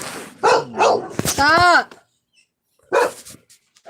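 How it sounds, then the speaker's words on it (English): Several dogs bark indoors in short, sharp bursts, with a yelping, whining call in the middle, close and loud, mixed with a woman's speech. "my dogs are outside, start barking, and then the ones in here start freaking barking"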